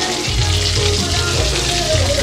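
Potato-stuffed bread pakoras fry in hot oil, giving a loud, steady sizzle and crackle close up with low bubbling underneath, all without talk.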